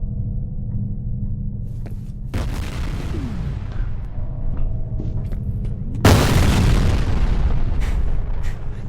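Two deep, booming explosions in the video game F.E.A.R. go off a few seconds apart, the second louder and followed by a long rumbling roar.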